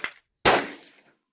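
A Ruger Precision Rifle in 6.5 Creedmoor fires once on an outdoor range, a loud sharp crack that decays over about half a second after a faint click.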